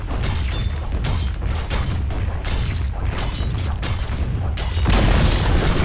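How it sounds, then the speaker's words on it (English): A Dota 2 tower is destroyed in a dense, continuous booming crash, loud and rumbling throughout, swelling even heavier near the end. "Dire's bottom tower is fallen."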